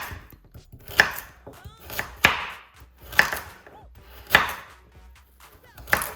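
A knife chopping carrots on a cutting board: crisp, close knocks land roughly once a second, six in all, with fainter scraping and handling sounds between them and no talk.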